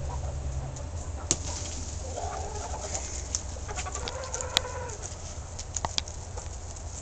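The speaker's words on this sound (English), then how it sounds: "These are the chickens eating the egg" Chickens cluck and coo softly while eating an egg over a steady background hiss, with a few sharp pecking taps scattered throughout.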